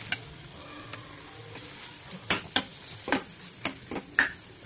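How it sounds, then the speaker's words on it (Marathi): Vegetable gravy fries in a pan with a soft sizzle while a spoon stirs it, sounding as a series of sharp scraping clicks that cluster in the second half, close up and without speech. "थोडासा चमच्याने असं फ्राय करून घेऊ।"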